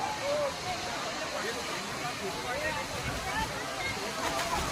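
A steady, dense rush of falling water from the Dhangar waterfall near Kondeshwar, Badlapur, fills the whole clip, loud and continuous with a broad hiss and no pauses.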